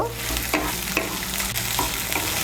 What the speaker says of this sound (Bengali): টমেটো কুচিটাকে মিশিয়ে নেব